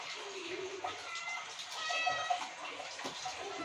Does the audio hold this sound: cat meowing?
yes